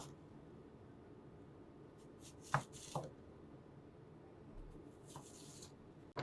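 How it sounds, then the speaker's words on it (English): A knife slicing apples on a cutting board into quarter- to half-inch slices for grilling, heard as a few sharp, isolated cuts spaced a second or two apart over a quiet room background. "we're just going to cut them into slices about 1/4 inch to 1/2 inch thick"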